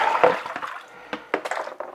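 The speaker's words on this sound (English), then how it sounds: "I'm going to do a change of water here" Water sloshes and splashes in a kitchen sink as the rinse water is changed for washing a cyanotype print, with irregular close splashes and brief pours.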